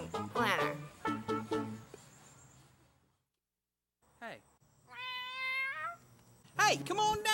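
A cat meows in several drawn-out, wavering cries, loud and close, with short breaks and a gap of near silence between bursts.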